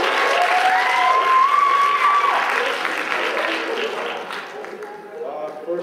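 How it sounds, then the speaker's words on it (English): A crowd at a cultural night applauds nine graduating seniors, a full round of clapping that stays loud before slowly thinning out, with a brief tonal whistle or microphone tone in the background. "Let's give a round of applause to our seniors"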